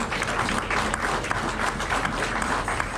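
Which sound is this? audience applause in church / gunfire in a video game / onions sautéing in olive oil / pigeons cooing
audience applause in church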